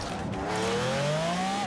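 An Audi TTS Coupe braking hard, its tires letting out a rising, sustained squeal over a loud, continuous engine and road roar.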